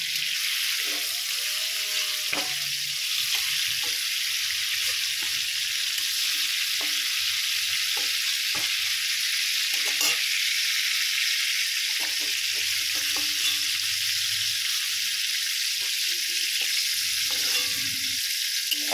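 Ridge gourd frying in oil in a pan, with a loud, steady sizzle throughout and occasional clinks and scrapes of stirring or handling.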